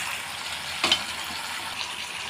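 Fried potatoes are stirred into chicken curry frying in a pan, giving a continuous close sizzle broken by a single spoon scrape and clunk.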